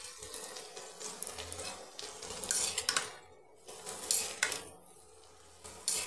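Soaked and dried flattened rice (poha), mixed with ghee, is stirred in a pan. Quiet scraping and clinking comes in irregular bursts, with brief pauses between strokes.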